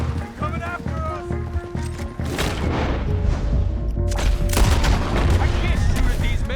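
Red Dead Redemption 2 shootout with repeated gunshots and booming volleys cracking out in bursts, mixed with shouting voices and loud crashing impacts throughout.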